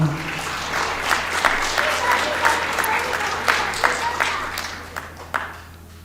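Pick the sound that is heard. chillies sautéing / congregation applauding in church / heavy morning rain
congregation applauding in church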